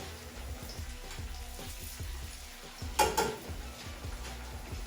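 Plantain slices frying in oil in a pan give a steady, close sizzle, with a louder brief clatter of a utensil or pan around the middle.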